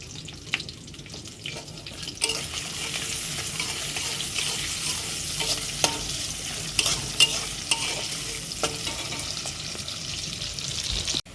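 Chopped onion and green chili frying in a pan, a steady close sizzle with scattered stirring scrapes and clicks, fairly quiet and with no talk.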